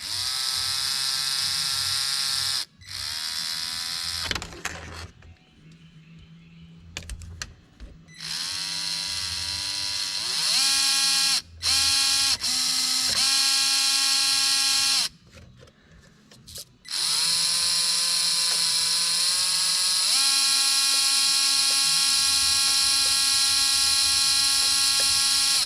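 A Traxxas TRX4m RC crawler runs its small electric drivetrain and steering servo, giving a steady high-pitched motor whine that revs up and down with brief pauses and servo buzzes, close and alone.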